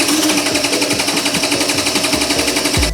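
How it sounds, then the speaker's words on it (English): A Honda Spree two-stroke scooter cranks on the starter with a steady, fast, even chugging rhythm. It is loud and close, with no other sounds, and it stops abruptly at the end. "We are about to put a diabolical amount of cranking amps on the Honda Spree."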